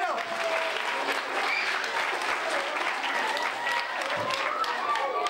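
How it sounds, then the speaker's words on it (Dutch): A crowd gives loud, dense applause for two teachers, continuous and even throughout, with voices faintly mixed into the clapping. "Applaus voor juf Els en meester Rob."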